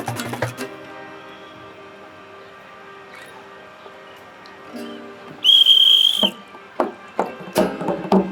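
A hand whistle gives one sharp, sustained blast midway through a short comedy skit. Quiet room tone comes before it and a few knocks and thuds follow.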